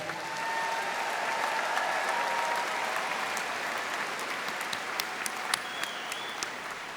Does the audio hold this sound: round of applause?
yes